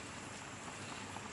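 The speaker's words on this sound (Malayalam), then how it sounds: "ചാളക്കറി തിളച്ചു." Sardine curry boils in a pot with a soft, even, continuous bubbling hiss, faint and steady throughout.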